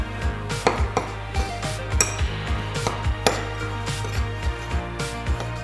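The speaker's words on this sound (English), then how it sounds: "We'll just give this a good stir, mix it all up together." A spoon scrapes and clinks against a bowl while dry rub of brown sugar and spices is mixed for pork ribs, giving repeated close, light knocks and rasping strokes with no talking.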